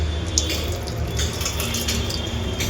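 Water running steadily from a tap into a wash basin at a restaurant in Varanasi, a continuous close splashing flow with a faint hum beneath, no speech.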